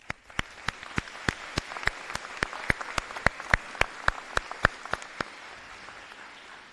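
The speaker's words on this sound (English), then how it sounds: "join me in recognizing them with a round of applause" Sparse, slow applause at a school honors program: a steady run of sharp individual claps echoing faintly, evenly spaced and moderately distant, fading out near the end.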